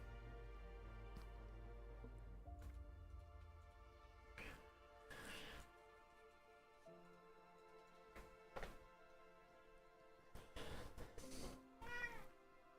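A pet cat's meow, heard a few times as brief calls scattered among background game sounds and music, fairly faint and with no talking over it.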